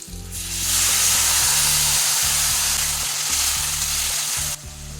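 Ground spice paste for a potato and drumstick fish curry hits a hot pan and bursts into a loud, steady sizzle and hiss. It sounds close, continuous and alone, with a low rhythmic thumping running underneath.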